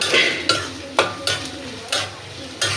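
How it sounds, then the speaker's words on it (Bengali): Fresh shrimp with spice paste fry in oil over a low gas flame, a steady sizzle broken by repeated sharp scrapes and clinks of a utensil stirring the pan. "দিয়ে দিলাম ভাজা ভাজা হয়ে যাক তেলের লগে গ্যাস কম"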